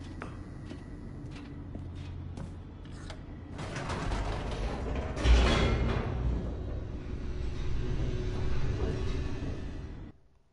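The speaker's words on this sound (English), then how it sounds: "The elevator raced downward" Elevator descending in The Stanley Parable Ultra Deluxe, mechanical clanks and creaks at first, then a swelling rumbling rush with a heavy thud midway, sustained until it cuts off abruptly near the end.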